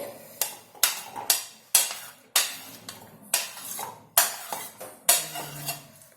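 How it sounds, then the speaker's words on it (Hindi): Pieces of banana and chikoo drop into a blender jar one after another, about ten sharp clinking knocks at a steady rhythm, close and fairly loud. "अब हम लेंगे एक मिक्सी का जार, उसमें हम डाल देंगे ये जो हमारा बनाना एंड चीकू है"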